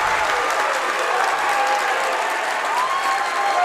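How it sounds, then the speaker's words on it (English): A high school basketball crowd at a boys' district championship game between Garaway and Malvern gives a steady, dense roar of applause and cheering after an offensive foul, filling the gym without a break. "He gets a little bit of a cheer from the Garaway fans"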